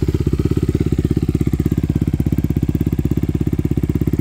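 A 2019 Honda CRF250R dirt bike engine idling steadily, with a fast, even, thumping pulse that stays loud and close and never changes pace.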